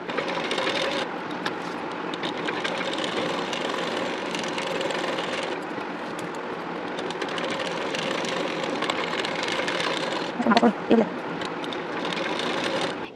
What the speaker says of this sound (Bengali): ডিজাইনের ঠিক কানা বরাবর করে মেন ফেব্রিকের উপরে আরেকটি সেলাই দিয়ে নেব